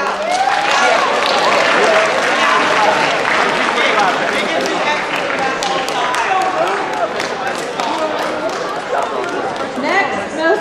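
An audience at a freshman awards ceremony applauds recipients, sustained dense clapping with cheering voices and crowd chatter mixed in throughout.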